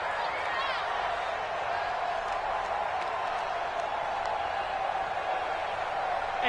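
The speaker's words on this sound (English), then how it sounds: "the crowd getting into it as we come up on a big third down" A stadium crowd in an American football video game roars steadily through a big third-down moment, a dense, continuous wash of cheering and applause under game commentary.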